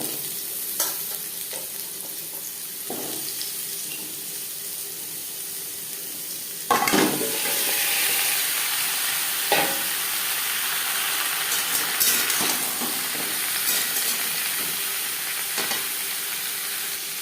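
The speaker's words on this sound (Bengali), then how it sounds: "সামান্য পরিমাণে রিফাইন্ড অয়েল গরম করে নিয়েছি এই পর্যায়ে দিয়ে দেবো পেঁপে" Peeled papaya hits hot refined oil in a pan, a sharp hiss that settles into a steady close sizzle with occasional clinks and stirs, no voices.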